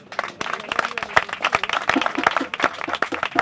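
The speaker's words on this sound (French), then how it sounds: "Si vous aviez aimé, merci d'applaudir encore." Live audience clapping at an evening show, dense and sustained applause from many hands, with a voice faintly present beneath the crowd noise.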